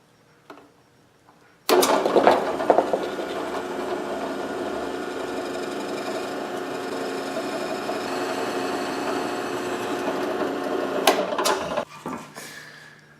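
A long 3/16 drill bit boring a hole through a wooden bear figure, a steady loud whirring drone that starts abruptly, runs for about ten seconds with slight strain, then stops, with faint handling noise before and after.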